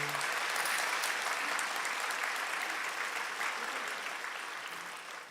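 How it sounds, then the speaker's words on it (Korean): Sustained applause from a church congregation at a men's joint worship service, dense and steady throughout and tapering slightly toward the end. "하나님께 영광의 박수 올려드립니다"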